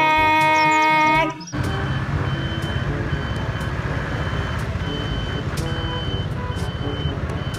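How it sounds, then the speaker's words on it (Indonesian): A toy tow truck sounds a steady electronic reversing beep, repeating evenly and close up after a brief tonal chime at the start, with a buzzy motor-like hum underneath. "Mobil derek."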